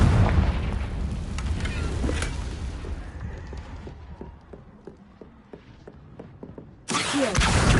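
Confringo spell explosions in the video game Hogwarts Legacy, a loud booming blast that fades into scattered crackling pops and debris, then a second abrupt burst near the end.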